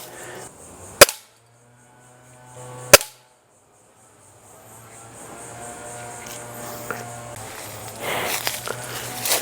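A pistol crossbow or air pistol (BAT Reverse or Umarex Trevox) fires twice at a target, a few seconds apart. Each shot gives a sharp, loud crack, followed by a rising background hum and rustling.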